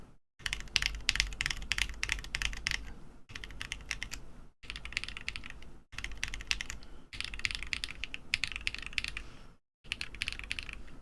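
Fast, steady typing on a Neo Ergo mechanical keyboard fitted with quieter switches, a dense run of soft clicky keystrokes heard up close, broken by a few brief pauses, with no voices.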